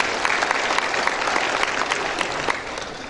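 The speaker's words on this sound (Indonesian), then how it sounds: "Tepuk tangan untuk kita semua" An audience at a polytechnic graduation ceremony in Bandung applauds, a steady crowded wash of clapping with scattered sharper claps that eases off slightly near the end.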